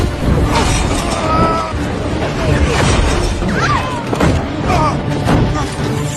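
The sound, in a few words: plane crashing in a film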